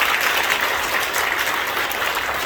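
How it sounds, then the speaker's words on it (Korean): A church congregation applauds during an ordination service at a 45th-anniversary celebration, a thick, even burst of many hands clapping at steady loudness throughout. "여러분 다시 한번 큰 박수로 축복해 주시기 바랍니다"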